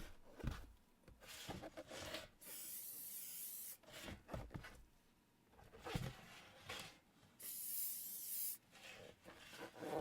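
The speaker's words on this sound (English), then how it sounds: "I wanna try and spray the sides of the box without spraying." Several bursts of aerosol spraying onto the sides of a silicone mold-making box hiss on and off, separated by quieter handling and rubbing noises, close and fairly soft.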